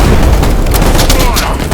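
A grenade blast in the video game S.T.A.L.K.E.R. comes as a loud, sustained, rumbling burst of noise that fills the whole stretch with heavy low-end boom.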